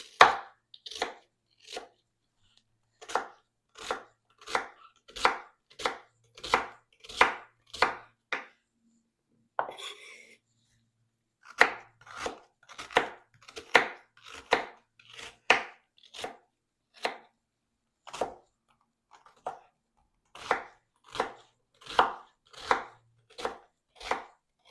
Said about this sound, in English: We're going to have to chop 1 onion,